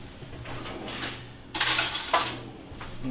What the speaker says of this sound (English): and keep whisking